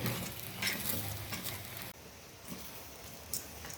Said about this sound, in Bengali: একটু গরম মশলা গুঁড়ো দিয়ে নাড়বো ভালো করে।